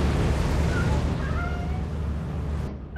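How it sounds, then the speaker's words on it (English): A cat meows in the video game Lethal Company, a few short thin mewing calls over a dense, loud background rumble of game noise, with no talking. "I got you, kitty."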